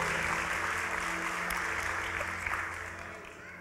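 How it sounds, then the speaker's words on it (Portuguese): Congregation at a church sermon applauding, a diffuse patter of clapping that starts moderately loud and gradually fades over a low steady hum, with no voices on top. "As palmas é para Ele."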